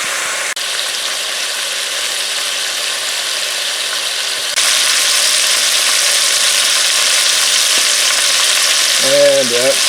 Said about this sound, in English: you're not cooking the chicken, you're searing it so you can lock in the flavor